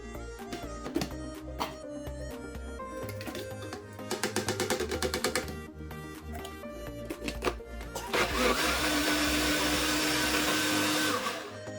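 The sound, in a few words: blender blending tomatoes, Scotch bonnet pepper and onions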